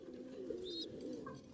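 Pigeons of a good breed kept for sale coo softly in a loft, with a few low, quiet coos and a faint chirp in the background.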